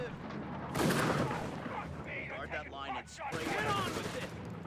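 Sniper shots ring out during a Company of Heroes 3 match between Wehrmacht and US Forces, sharp gunfire bursts mixed with battlefield noise beneath a commentator's steady talk.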